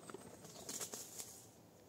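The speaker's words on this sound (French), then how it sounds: "C'est un pigeon. Un pigeon au-dessus de moi." A pigeon flaps its wings overhead in a few quick, soft bursts against quiet outdoor background noise.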